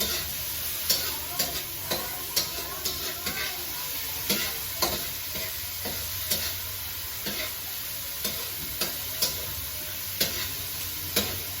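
Vegetables stir-fried over medium heat in a pan, a steady sizzle under repeated sharp scrapes and taps of the spatula in an uneven rhythm, close and fairly quiet with no talking.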